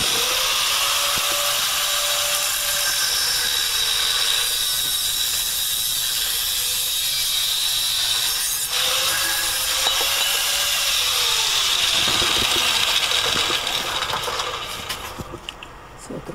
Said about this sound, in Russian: сейчас с другой стороны тоже отрежем эти 20 сантиметров